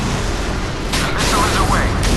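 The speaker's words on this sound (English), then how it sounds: "The missile is away." Missile launch from a Russian submarine in the naval combat game Modern Warships: a loud, continuous rushing roar with bursts of whoosh and a brief rising whine, under a constant low rumble.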